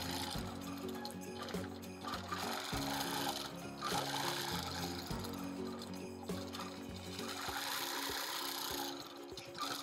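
A sewing machine free-motion quilts feathers on a Christmas quilt, a steady close mechanical whirring and rubbing hum running continuously with slight changes in speed.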